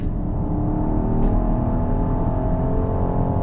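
A 2020 Mercedes-AMG GLC63S Coupe pulls hard under throttle through an open sweeper, its deep engine drone rising steadily inside the cabin, loud and continuous with no voices.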